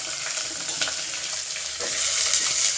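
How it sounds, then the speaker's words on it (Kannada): Onions frying in a pan in a home kitchen, giving a steady, close sizzle with brief stirring scrapes, growing a little louder toward the end, with no talk over it. "ಹಾಕ್ಕೊಂಡು ಸ್ವಲ್ಪ ಫ್ರೈ ಮಾಡೋಣ. 1-2 ನಿಮಿಷ ಫ್ರೈ ಮಾಡೋಣ."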